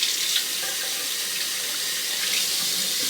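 Water runs steadily from a tap as a safety razor (Rockwell 6S) is rinsed, a bright, hissing splash close by with small surges, no voices.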